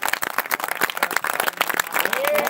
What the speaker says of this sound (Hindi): आइए अपने प्रभु यीशु मसीह के लिए हम तालियां बजाएं।